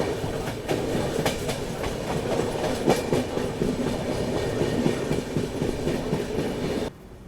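The Shree Shakti AC Express passenger train rolls steadily along the tracks on the approach to Ambala Cantt station, a dense continuous rumble with rhythmic wheel clatter heard from inside, ending abruptly.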